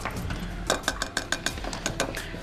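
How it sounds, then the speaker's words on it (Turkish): A series of sharp metallic taps, about eight quick clinks in an uneven rhythm, as a spatula knocks on the rim of a pot while making lemon cookies. "Tencerenin kenarına iki kere vurmak falan."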